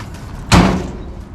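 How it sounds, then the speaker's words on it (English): A 1946 Chevy pickup truck door shuts with a single loud, solid thud midway through, then fades out quickly into quiet. "You shut the door."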